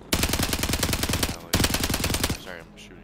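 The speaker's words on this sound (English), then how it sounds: "Sorry, I'm shooting Ali." Rapid automatic gunfire in Call of Duty Warzone Rebirth, two loud sustained bursts close up, the second cutting off into a brief metallic rattle.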